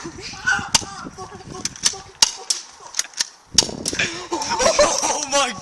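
Several sharp BB gun shots crack out in a loose, irregular series, with people shouting and talking around and between them.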